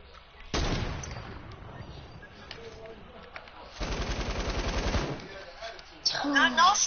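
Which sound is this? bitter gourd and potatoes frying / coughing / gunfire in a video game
gunfire in a video game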